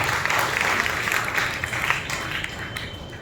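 A church congregation claps together during a Sunday worship service, the applause a steady, dense patter that fills the room and carries on at an even level without fading.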